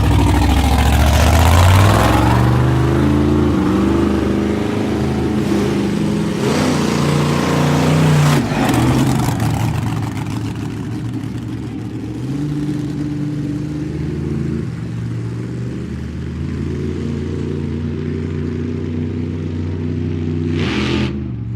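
Powerful monster truck engines rev loudly at a tractor pull and monster truck show, a dense continuous roar with rising and falling throttle swells that stays close and heavy throughout.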